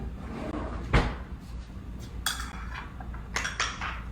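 A spoon and other cutlery clink against dishes in a home kitchen while pitas with olive tapenade are assembled, giving a few sharp, close metallic knocks spaced over a few seconds against quiet room tone.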